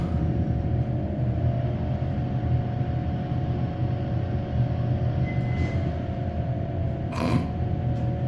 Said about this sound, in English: Fan made some weird noises.